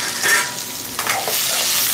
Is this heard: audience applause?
no